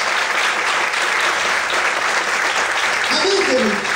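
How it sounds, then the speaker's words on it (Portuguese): Steady, dense clapping from a church congregation at an evening worship service carries on without pause, with a voice rising briefly over it near the end. "Mais palmas."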